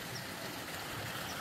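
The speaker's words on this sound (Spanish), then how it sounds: "Miren también cómo está cayendo allá el agua, miren." Water pours down into a stream below steep hills, a steady broadband rush of falling water heard up close and continuous without a break.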